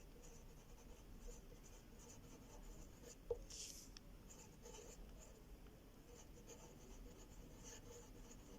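A pen scratches steadily across paper in a quiet room, a soft continuous rasp with one small tap partway through, as a word is written out for a French exam answer.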